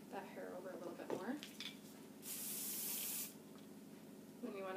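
Hairspray hisses from an aerosol can onto hair styled into faux bangs in one steady burst of about a second, close and fairly loud. Soft handling sounds come before and after it.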